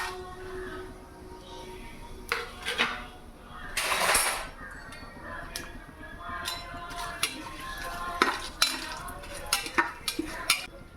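Whole spices such as star anise, fennel seeds, cinnamon and cashews roast in hot oil in a pan for chicken biryani, giving a steady soft crackle with scattered clinks and scrapes of a stirring utensil, and a louder burst of sizzle partway through.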